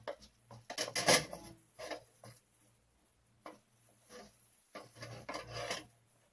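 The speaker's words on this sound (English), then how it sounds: "So we're just gonna stir until the liquid is done." Couscous being stirred in a pan, a few scraping, rasping strokes in irregular bursts with quiet pauses between them, close and fairly soft.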